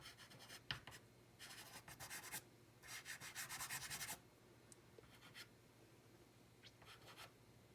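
Charcoal on paper is worked with a blending tool in quiet, close bursts of scratchy rubbing strokes, some rapid and rhythmic, separated by short pauses, with no talking.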